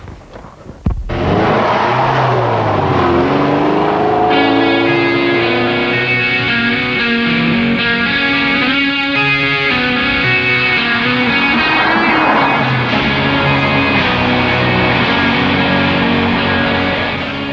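Lotus Esprit V8 with Oz racing wheels and Brembo brakes, engine droning steadily while driving, pitch rising and falling through gear changes, loud and continuous throughout.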